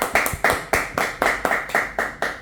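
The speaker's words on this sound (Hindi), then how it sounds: "तालियों से स्वागत हो जाए भाई" Applause welcoming ACP Kalkal Sahab as a guest, heard as a few distinct claps in a loose, uneven rhythm, fairly close and moderately loud, with no talking.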